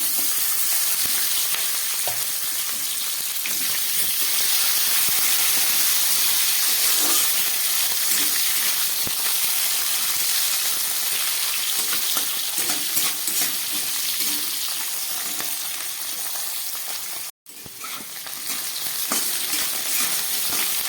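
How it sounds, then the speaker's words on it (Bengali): Potatoes and beans fry in hot oil in a pan, a loud continuous sizzle and hiss with scraping stirs throughout, briefly cut off near the end before resuming. "প্রথমে একটু আলুটা ভেজে নিই, আলু আর বিনসটা।"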